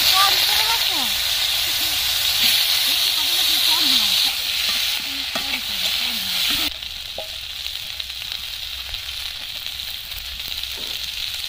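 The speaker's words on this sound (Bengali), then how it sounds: "কড়াইয়ের মধ্যে তেল দিয়ে কপি আর আলুগুলো হালকা করে ভেজে নেব" Kohlrabi and potatoes fry in oil in a wok, giving a steady close sizzle with stirring scrapes throughout, a little quieter in the second half.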